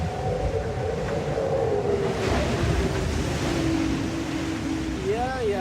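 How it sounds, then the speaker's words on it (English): Short choppy ocean waves in the Bay of Biscay wash and hiss around a racing sailboat in a steady, close rumble, with a brief higher tonal sound near the end. "short waves in the Bay of Biscay"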